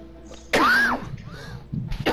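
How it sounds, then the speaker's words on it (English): Two harsh coughs, the first loud and close, the second following after a short pause, with a throat-clearing quality. "Sorry for coughing so much."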